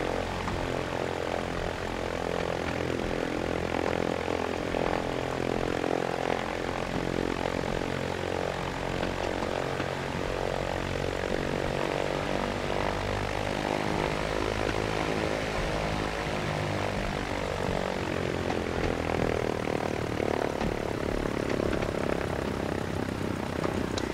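In Flight Simulator X, a Cessna propeller aircraft taxis on the ground, its engine droning steadily and evenly at moderate level for the whole stretch, alone without talk.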